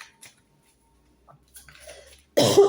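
A single loud, harsh cough bursts out near the end of a mostly quiet stretch in a café, preceded by faint small noises.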